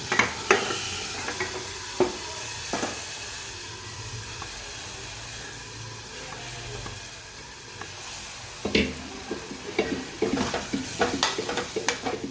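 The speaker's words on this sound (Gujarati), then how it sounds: "આપણે મગ નાખી દઈએ." Moong beans tipped into a pan of sizzling spice masala give a close, steady hiss with bursts of crackle and stirring scrapes, loudest at the start and again near the end.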